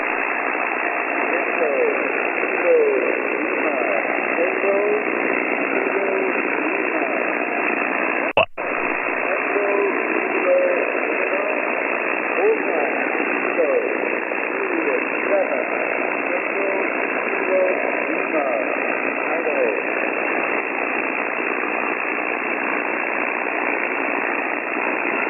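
Steady hiss of radio static from an amateur HF receiver in Southern California, loud and continuous throughout with one brief click partway through, no clear voice breaking through.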